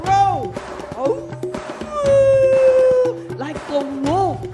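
A crowd of voices, including children, imitates a wolf with rising and falling howls at an outdoor cactus festival, several overlapping howls swelling over about four seconds.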